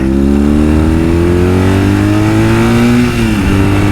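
A BMW R1200S motorcycle accelerating hard, its engine note loud and close, rising steadily in pitch for several seconds before easing slightly near the end.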